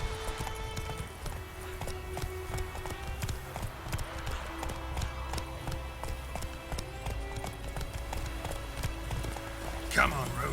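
Roach the horse gallops through The Witcher 3 video game, hooves clip-clopping in a steady, busy rhythm over game ambience and a music bed, with talk layered over the running.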